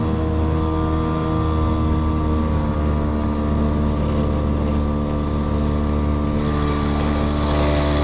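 A small 3.3 horsepower outboard motor runs flat out on a boat, giving a loud, constant, high-revving drone with a steady tone and no pauses.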